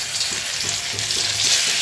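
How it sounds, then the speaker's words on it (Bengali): Battered fritters made with fish oil fry in hot oil, a close steady sizzle with soft periodic bubbling pops as pieces cook. "বড়াগুলো ভেজে নেব"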